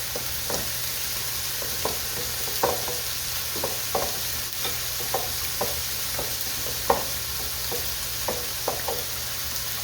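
Spoon scraping and stirring a meat casserole mixture in a pan, with soft sizzling underneath and regular knocks and scrapes every half second or so, close and fairly quiet.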